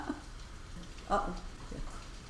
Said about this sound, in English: if you guys hear any noise, it's It's rain.